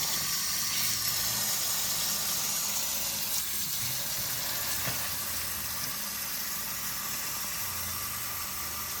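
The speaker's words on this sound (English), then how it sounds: "Actually, I'm gonna put some more water in it." Water runs steadily from a tap into a large pot for a Caribbean seafood boil, a continuous close hiss and splash that stays even throughout, with no talking.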